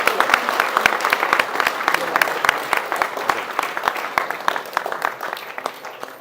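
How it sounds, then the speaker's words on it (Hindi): An audience at a Hindi-language event claps, crisp individual claps in a loose, uneven rhythm that thins out and fades toward the end. "दिल से तालियां बजाएं ताकि पता चले"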